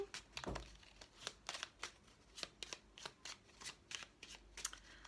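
Tarot cards are shuffled by hand in quick, rhythmic riffles and taps, close and quiet, repeating steadily, with no talk.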